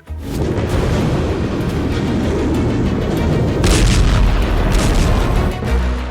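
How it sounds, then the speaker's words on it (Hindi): Rapid back-to-back bomb blasts in the Iran–Israel war, a continuous loud rumbling roar of explosions with deep low-end booms swelling near the middle and end, no voices. "ताबड़तोड़ बम धमाका, आसमान तक आग, काला खौफनाक धुआं"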